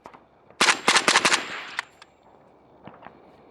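A quick burst of several suppressed 5.56 rifle shots through a Huxwrx Flow Ti suppressor, close and sharp, followed by a fading tail and two fainter later shots.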